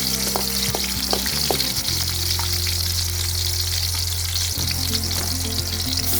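Garlic and onions sautéing in a pan for Filipino pork pochero, a steady loud sizzle with frying crackle and occasional stirring scrapes, close up and without talking.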